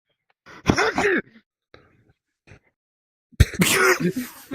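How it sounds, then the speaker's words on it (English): Two explosive sneezes, close and loud, come several seconds apart, with small breaths and rustles in the quiet between them. "I sneezed."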